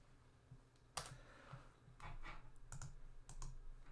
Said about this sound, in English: This time I'm going to press F4 on my keyboard to lock this in place.